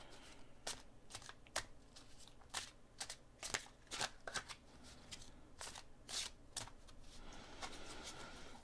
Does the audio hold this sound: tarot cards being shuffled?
yes